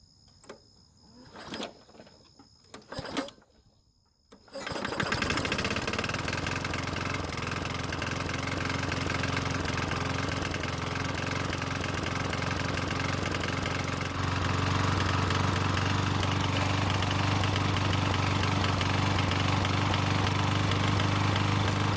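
A Toro lawn mower engine starts after a few brief knocks and pull attempts, then catches and runs continuously at a steady idle, rising slightly in pitch and loudness near the end, with no talking.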